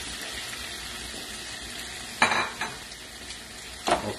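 Shrimp for spaghetti scampi fry in a pan with a steady soft sizzle, broken by two sharp bursts of spatter and clatter as the shrimp are stirred and spread.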